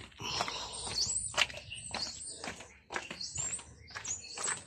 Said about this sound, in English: You can hear the birds out there.